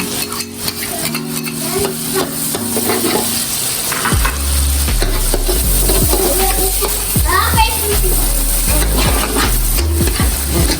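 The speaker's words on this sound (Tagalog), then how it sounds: "isunod na natin ang ating bawang" Garlic sautéed in a pan with onion for pork chao fan fried rice: a loud, close sizzle with repeated scraping and clattering stirs of a spatula, while children's voices and chatter sound in the background.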